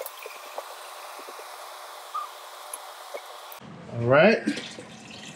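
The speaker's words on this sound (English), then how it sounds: "I'm gonna put a little more water in there." Tap water running into a pot while vegan soup is being made, a splashing stream starting partway through after a faint background hum and a brief spoken phrase.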